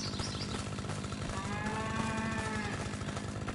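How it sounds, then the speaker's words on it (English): A cow in a lawn mowing simulator game lets out a long, drawn-out moo from the background, fairly faint over a constant low mower-engine rumble. "here a cow in the background. The cow's mad at me."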